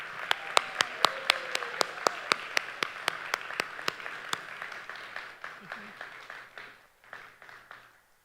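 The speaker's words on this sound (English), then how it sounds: "Please give a round of applause for all of our graduates" At a graduate commencement ceremony, a crowd applauds graduates: sharp, evenly spaced rhythmic claps ring out first, then loosen into a looser scattered clapping that fades, with a brief gap near the end.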